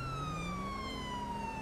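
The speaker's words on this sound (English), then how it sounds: "Why are you running around with sirens, no lights?" Police siren wailing in GTA V with the LSPDFR mod, a steady electronic tone sliding slowly downward alongside a low rumble, continuous and fairly faint throughout.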